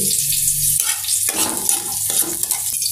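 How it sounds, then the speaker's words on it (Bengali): Onion, garlic and green chili fry in a pan, giving a steady loud sizzle with bursts of stirring and scraping. No one speaks. "পেঁয়াজ, রসুন, কাঁচামরিচ ভেজে নিচ্ছি।"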